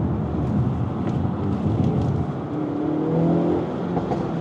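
A 2024 Hyundai Elantra N accelerates hard out of a corner, its engine note rising steadily as it pulls through, loud and close, with no talking over it.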